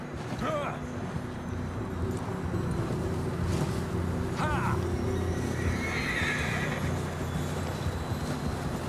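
Horses in snow from Red Dead Redemption 2 give two or three whinnies over a dense, windy backdrop, with steady hoof thuds and faint voices underneath.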